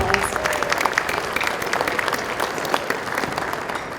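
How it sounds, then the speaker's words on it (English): A crowd at a college district gala evening applauds warmly, many hands clapping in a steady, dense patter that holds at an even level throughout with a faint murmur beneath. "let's give them a big round of applause"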